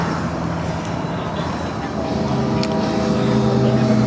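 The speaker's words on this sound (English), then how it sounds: "Real good exhaust note on this bike." A steady, loud idle rumble from the exhaust of a Harley Davidson Softail Standard FXSTI motorcycle, heard close and continuous with a low throbbing drone and no breaks.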